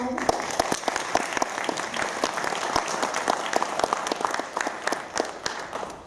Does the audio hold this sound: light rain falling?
no